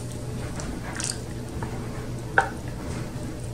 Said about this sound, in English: So I'm going to fill each one of these little ramekins